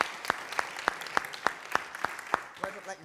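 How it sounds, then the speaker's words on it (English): A round of applause at a town hall meeting on dismantling racism, given for Wendy, heard as about nine sharp, steady claps at an even pace, moderately quiet and sparse, trailing off at the end. "I would just like to give her a round of applause"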